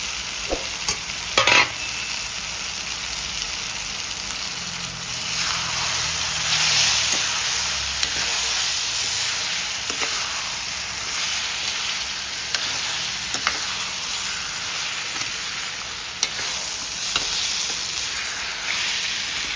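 Cleaned prawns frying and sizzling in a pan while being stirred, a steady close hiss with intermittent scraping stirs throughout, no talking.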